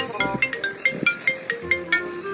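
A mobile phone ringtone announces an incoming call, a bright repeating melodic pattern of short tones playing close and clear for a couple of seconds.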